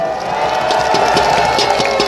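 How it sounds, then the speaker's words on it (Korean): Rally crowd at Bucheon station square cheering and applauding in a steady, loud wash of claps and voices, continuous throughout. "여러분 우리 구순 할머니께도 큰 박수 한번 보내주시기 바랍니다."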